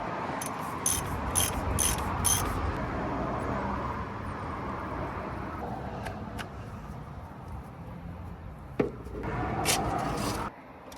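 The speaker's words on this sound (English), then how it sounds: "I'm going to start by removing the oil filter." A ratchet with a 32mm socket clicks rapidly in bursts while removing the oil filter on an Audi S1 with a 2.0L TFSI engine, close by, with quieter mechanical handling between the ratcheting runs.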